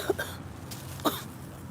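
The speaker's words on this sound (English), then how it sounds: "You ain't have to do all that coughing." Two short, sharp coughs sound close by, spaced about a second apart, over a faint background hiss.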